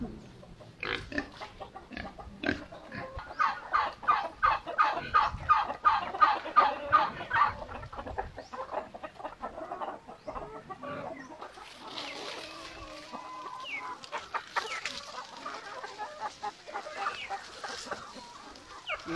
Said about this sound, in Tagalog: Wow, ang daming manok.